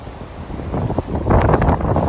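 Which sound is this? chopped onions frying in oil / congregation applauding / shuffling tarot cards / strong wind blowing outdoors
strong wind blowing outdoors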